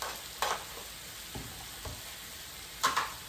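Green onions tossed into a pan with sizzling chicken, a faint continuous sizzle with a few soft stirring clicks and scrapes spaced apart.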